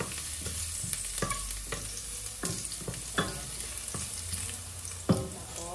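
Garlic sizzling in a hot pan for ginataang pork belly with spinach, a steady frying hiss broken by sharp stirring scrapes and clatters, the loudest near the end, with no talking.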